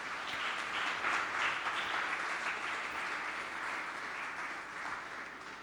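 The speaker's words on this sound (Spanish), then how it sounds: "Démosle un aplauso al elenco que está aquí." A church congregation applauds, a broad, even wash of clapping heard from a distance in a large room, sustained without pause and with no talk over it.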